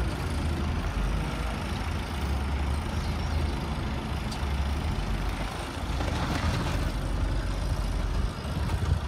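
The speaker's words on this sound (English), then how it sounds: "Crushing the cars, throwing them away." A junkyard car-crushing machine at an auto wreckers yard gives a steady, loud, heavy diesel rumble with a low mechanical drone that stays constant throughout, without distinct crunches standing out.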